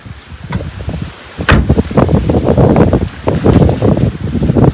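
Strong wind buffets the microphone in a loud, continuous, gusty rumble that swells and drops throughout.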